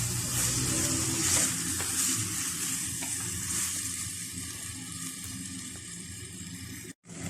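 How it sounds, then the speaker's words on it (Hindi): Taro root (arbi) frying in masala in a pan, with a continuous close sizzle and soft stirring scrapes, then a sudden brief dropout near the end. "अरबी को हमने इस मसाले में भूनना है।"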